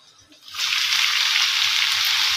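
Bitter gourd is tipped into a pan where onion and green chili are already frying, setting off an abrupt, strong sizzle that holds steady and near.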